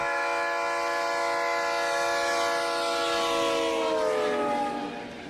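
Train horn sound effect for a stream hype train alert: a loud, sustained multi-tone horn blast with a rumbling rail undertone, close and steady before the pitch slides down and fades at the end.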